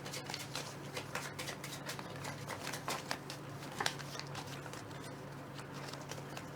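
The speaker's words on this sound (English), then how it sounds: "And then shuffle." Board game cards being shuffled at a table, a soft papery riffling and patter repeating steadily for several seconds over a low constant hum, with faint room murmur and no clear speech.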